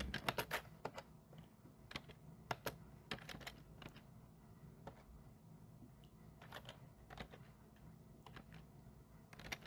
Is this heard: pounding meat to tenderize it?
no